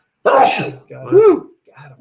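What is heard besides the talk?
sneeze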